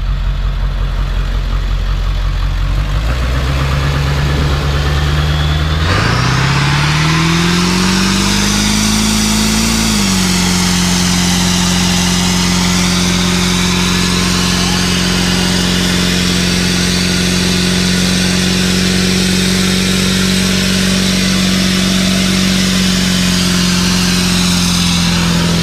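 A 7.3 diesel van engine on a race-mode tune revs hard, climbing from a rough idle into a loud, sustained high-RPM roar that holds steady close by with no talking.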